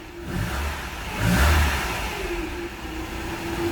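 A cold Mercedes engine with KE-Jetronic fuel injection revs up once, swelling to a peak, then drops back toward a steady idle, heard up close.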